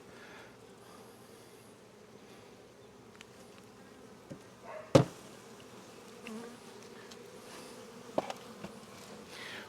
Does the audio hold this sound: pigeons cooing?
no